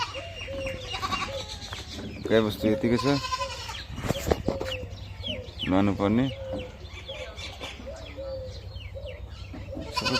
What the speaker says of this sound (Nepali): यो पाठाहरू पनि त घुम्दैछ।